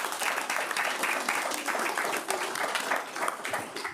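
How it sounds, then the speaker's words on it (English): Round of applause from attendees at a state transportation commission meeting honoring an operator, steady dense clapping with a faint murmur of voices underneath, moderately loud and sustained throughout. "Well, let's give him a round of applause."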